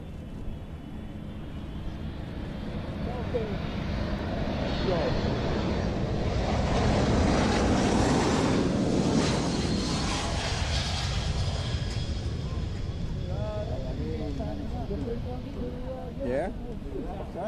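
Airplane landing on runway 27 with a 12-knot surface wind, a broad roaring rush that builds to a peak midway then fades, heard from a distance with wind noise and talk over it.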